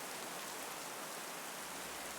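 A constant wash of falling rain serves as background ambience in a narrated tale about abandoned train tracks, a smooth broadband hiss that holds steady for a couple of seconds with no speech over it.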